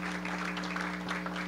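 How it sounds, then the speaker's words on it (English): Applause from the audience at a San Antonio District 8 budget work session, a steady wash of clapping held at an even level from start to finish, with a low constant hum running underneath. "if you can give them a round of applause"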